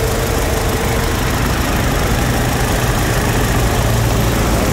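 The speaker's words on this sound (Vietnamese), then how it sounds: "Máy nổ êm, đều tiếng," A 1.6-litre EcoTec twin-cam 16-valve engine in an imported automatic sedan idles steadily, a smooth, even, continuous low hum with no talking over it.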